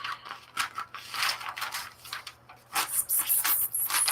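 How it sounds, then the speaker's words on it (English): Scissors snipping in close, ASMR-style cuts: a quiet run of crisp, irregular snips and light scrapes, with no voices. "it's relaxing to hear scissors snipping"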